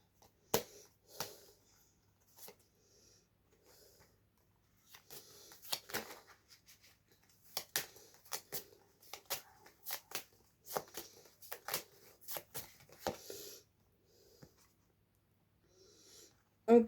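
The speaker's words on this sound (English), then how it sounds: "I'm gonna shuffle some cards to see what comes out." Tarot cards being shuffled by hand in a quiet room, a run of soft, crisp riffling and slapping bursts in uneven clusters, close and fairly faint, with pauses between.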